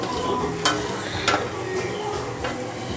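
An omelette with fries cooks in a pan, giving a steady broadband sizzle with a few brief louder scrapes or stirs, close and continuous with no talking.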